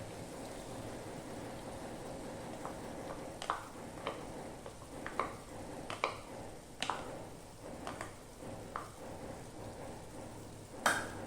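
Yogurt is stirred into chicken frying in a pan for biryani, a continuous sizzle broken by intermittent scraping and clacking of the spoon against the pan, close and fairly quiet.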